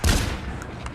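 A single rifle shot from the VR shooter Population One cracks loudly right at the start, then its echoing tail fades out over the next second.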